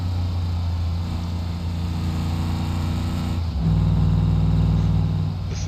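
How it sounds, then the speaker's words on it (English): A Mercedes AMG car's exhaust note drones steadily at a low pitch, then deepens and grows louder as the engine changes note before easing off. It is close and prominent, with no talking. "Listen to that exhaust note. One thing I will say about the Mercedes products, the AMG stuff has really good exhaust notes."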